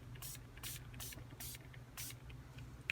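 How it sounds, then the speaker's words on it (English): Five short spray-bottle bursts mist onto a journal page at an even rhythm, each a crisp hiss, close and fairly quiet over a low room hum. "Let's see if this one will spray. We'll spray it over here."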